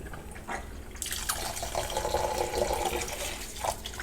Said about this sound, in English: So I'll go ahead and start adding that water again.